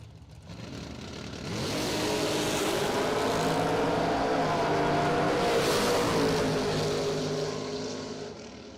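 A pickup truck and a Camaro at a drag strip rumble at idle, then both engines surge loudly into a sustained full-throttle roar on launch before fading slightly, with no talking over them.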